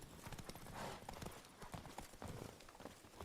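Geralt's horse Roach trotting in The Witcher 3: Blood and Wine, hooves clip-clopping in a steady close rhythm, with faint game voices in the background.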